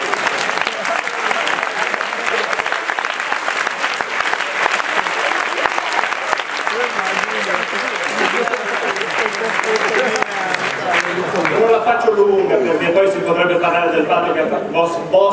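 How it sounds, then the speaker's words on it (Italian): Sustained crowd applause at an Italian political party federal assembly, steady clapping for most of the stretch with voices talking over and through it, the clapping thinning toward the end as speech comes forward. "io direi di fare un applauso al Brignoli sul ciao"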